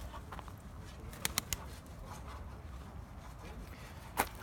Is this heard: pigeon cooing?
yes